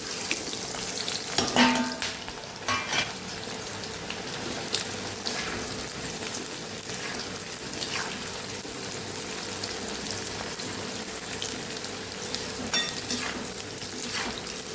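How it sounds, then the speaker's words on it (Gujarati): Sliced onions hit hot oil and fry for veg Hyderabadi biryani, a steady loud sizzle with occasional stirring scrapes close up, with no talk over it. "અહીંયા તેલ ગરમ થઈ ગયું છે તો આપણે ડુંગળીને ઉમેરી દઈશું।"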